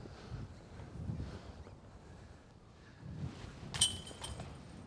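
Strong wind of over 30 mph on an outdoor disc golf course buffets the microphone in low rumbling gusts, with a brief metallic clink near the end.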